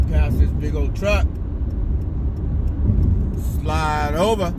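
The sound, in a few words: car driving past a big truck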